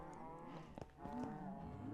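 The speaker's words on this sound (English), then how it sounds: "Right now I have cows going, and I want to fill this tank up with meat." Cows mooing in the Minecraft video game on a Feed The Beast modded farm, several overlapping low moos from multiple animals, quiet and close, with no talk.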